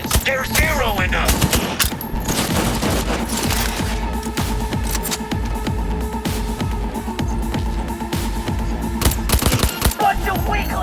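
Heavy automatic gunfire in a Cyberpunk 2077 firefight: dense, loud bursts of rapid shots and booming impacts, sustained with barely a pause.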